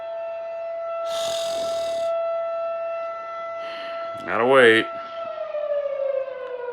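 A siren wails with rising and falling tones, loud and fairly close, while a person briefly speaks over a steady background hum.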